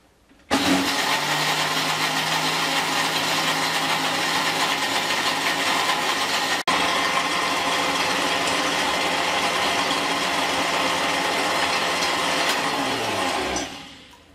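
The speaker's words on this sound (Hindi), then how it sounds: "अब हम इसको ब्लेंड कर लेते हैं" A blender runs steadily in a jug, mixing mustard oil with sugar. The motor whirs loud and continuous for about thirteen seconds, with a steady hum and a brief hitch midway, then winds down and stops.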